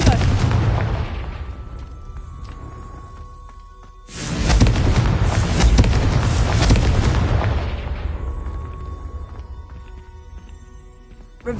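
A Confringo blasting spell exploding in the video game Hogwarts Legacy, a loud booming burst that rolls on for several seconds, then dies away, with game sounds before and after.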